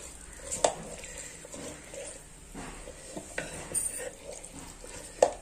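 Mango pickle being stirred with oil from the bottom up in a village home kitchen, giving soft continuous scraping and stirring with a few sharper utensil clinks, close by and moderately quiet with no talking.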